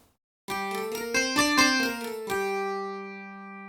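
Plucked Taishogoto strings recorded with a condenser mic and pickup blended together: after a brief silence, a bright rhythmic phrase of keyed notes that ends on one long ringing tone, near and solo.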